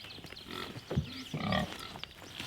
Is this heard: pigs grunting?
yes